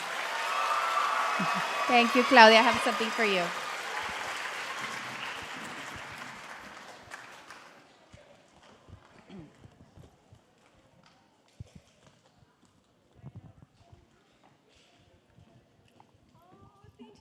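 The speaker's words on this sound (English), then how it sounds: "can we give her a Laredo ISD big round of applause?" Children and staff at a Laredo ISD school reading event give a big round of applause, lively clapping that swells early and then fades out over several seconds, followed by quiet talking.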